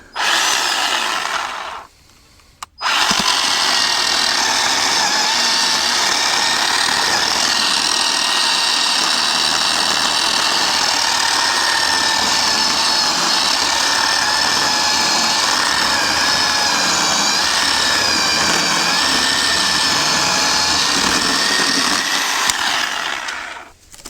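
Harbor Freight 10-inch electric chainsaw cutting through dry, dead hardwood: a loud, steady motor whine under load that runs almost continuously after a brief pause near the start, ending with a quick drop-off.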